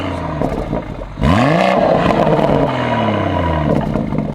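A BMW M240i with a B58 engine and a carbon induction kit revs up hard, the engine and exhaust sweeping upward into a loud sustained roar, then easing back down, close by with no talk.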